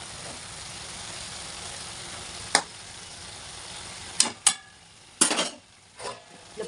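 Cabbage sabzi stirred in a pan, with faint sizzling underneath and several sharp scrapes and clinks of a spoon against metal, coming in short bursts near the end.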